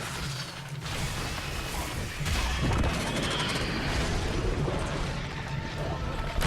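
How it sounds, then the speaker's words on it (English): Explosions in the sci-fi shooter Evolve: a dense, continuous roar of booming blasts and rumbling gunfire, loud and sustained throughout with a sharp surge partway through. "Explosion."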